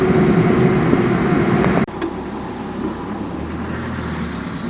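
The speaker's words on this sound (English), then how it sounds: "Right, we've got a lot of traffic." Steady roar of passing road traffic in Armenia with tyre noise, loud and continuous, dipping briefly before settling into a lower rumble.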